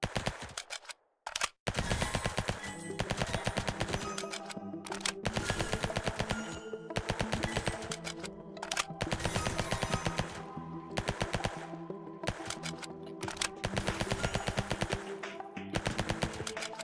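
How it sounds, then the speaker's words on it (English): Automatic rifle fire in a video game, long sustained bursts of rapid, evenly spaced shots, loud and close, broken by a brief pause near the start and short gaps between bursts. "Automatic rifle."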